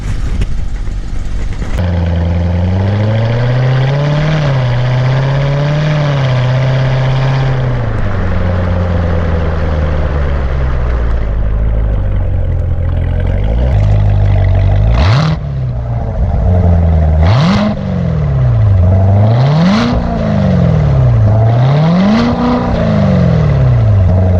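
A 2017 Corvette Z06 engine and exhaust rev repeatedly, loud and close, rising and falling in pitch through several throttle blips with a steady deep idle rumble between them.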